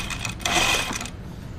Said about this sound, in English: I'm just sewing around 3/8 of an inch seam allowance.